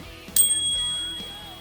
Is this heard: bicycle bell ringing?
yes